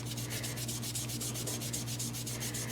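Ink rubbed back and forth on paper for card making, a steady rhythmic swishing scrub, close and continuous, with no talk.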